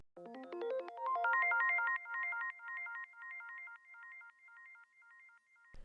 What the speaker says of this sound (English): I use this trick with like a Rhodes plugin, arpeggiate it like across the scales all the way up, and then put a bunch of delay on it